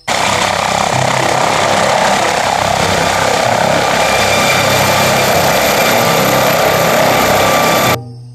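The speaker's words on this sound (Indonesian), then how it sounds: "Helikopter, wow." A steady, loud whirring of a red toy helicopter's rotors and motor runs for about eight seconds, then stops abruptly.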